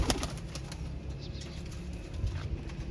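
Breeder pigeons cooing softly with quick bursts of wing flapping nearby, a low murmuring coo running under scattered flutters.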